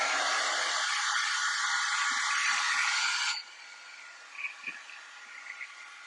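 A heat tool blows steadily to dry Versamark ink stamped on plastic, a loud continuous whooshing hiss that cuts off after about three seconds, leaving quiet room tone.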